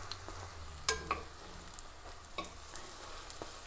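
Batter cakes fry in a pan with a soft, steady sizzle, faint and close, broken by a few light clinks and scrapes of utensils.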